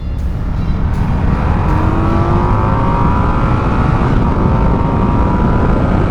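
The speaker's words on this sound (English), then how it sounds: "Second gear roll on, 40 miles an hour." A 2025 Indian Scout 101 cruiser motorcycle rolls on the throttle in second gear from 40 mph, with a steadily rising engine note heard close up under heavy wind rush.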